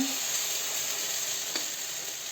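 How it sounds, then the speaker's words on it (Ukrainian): Steady sizzling of potato pancakes frying in a pan, a constant crackling hiss with no talking. "А ми будемо смажити далі."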